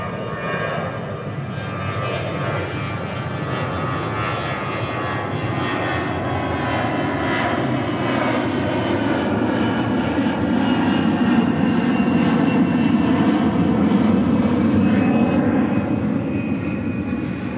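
A jet airliner taxis at DFW airport, its engines a loud, continuous whine and roar held steady and close throughout, with no breaks in the sound.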